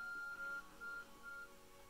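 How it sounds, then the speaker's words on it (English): An ARC phone in the video game Pokemon Legends Arceus gives a few thin, faint electronic beeps in a short broken pattern over a quiet game background. "Your ARC phone is beeping?"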